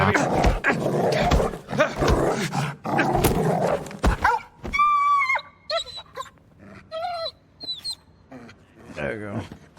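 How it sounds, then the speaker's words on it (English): A dog in the video game Indiana Jones and the Great Circle, with short barks and yips over dense game noise, then whines amid quieter background sounds. "You can't actually put the dog down, but you can, like, make it lie down."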